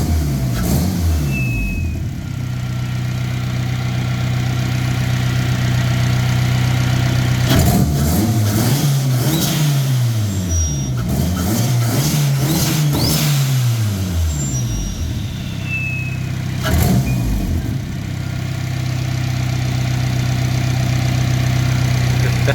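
Turbocharged Honda sleeper car engine idling steadily, then revved hard in several quick bursts and one later blip, loud and close with no talking.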